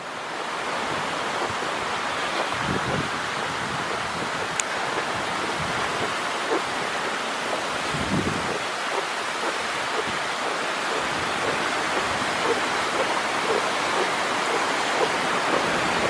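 Sherman Falls in Hamilton in winter, a steady, loud broadband rush of falling water continuing unbroken throughout, close and enveloping with no voices.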